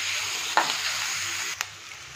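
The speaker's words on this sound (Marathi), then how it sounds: "आता कांद्याला आपण चांगलं फ्राय करून घेऊया" Onion frying in a pan for Maharashtrian besan pithla, a continuous close sizzle with a couple of brief stirring clicks.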